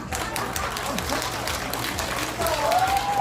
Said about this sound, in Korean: 박수 좀 쳐라